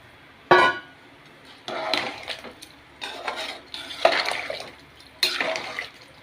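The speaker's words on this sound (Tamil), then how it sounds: "இங்கே பாருங்கள் தண்ணி ஊற்றிக்கலாம்." Water poured onto rice in a pot for mint rice, a few short splashing bursts with clinks of a vessel between quiet pauses.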